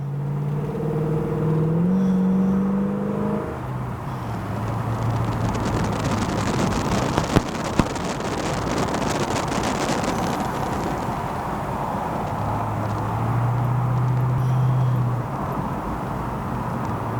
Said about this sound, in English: see the other side of the car going down the road